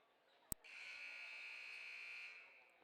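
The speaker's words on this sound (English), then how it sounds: "There's that old buzzer again saying, hey guys, get out there." A gym buzzer sounds at a varsity high school basketball game, one loud sustained electronic blare of about two seconds after a brief sharp knock, heard from the stands.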